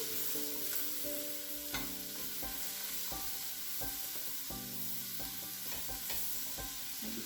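Chopped leeks sizzle in a pan under a soft, steady fry, while a spoon stirs them in repeated scraping and knocking strokes, close and fairly quiet.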